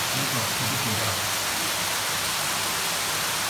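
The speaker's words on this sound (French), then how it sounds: "C'est une belle cascade, non?" Steady broadband rush of water falling about two and a half metres at an old water mill, continuous and fairly loud, with faint low voices murmuring underneath at the start.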